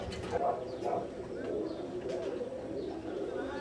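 Birmingham roller pigeons coo in a loft, soft repeated throaty burbles overlapping in a steady, close murmur, with faint background rustle and a hint of human voice.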